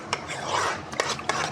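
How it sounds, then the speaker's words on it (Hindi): A spoon stirring gram flour into buttermilk in a bowl for kadhi, a soft continuous swishing scrape with a few faint clinks of metal against the bowl, close and brief. "और ये लस्सी के अंदर अब मैं 2 चम्मच जो है ना बेसन डालूँगी और इसको मिक्स करूँगी अच्छी तरह से"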